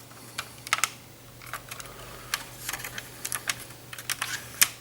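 Plastic parts of an FT-10 Phoenix transforming robot figure clicking as its wings are unlocked and opened, a scattered series of sharp, close, fairly quiet clicks and snaps with no talking.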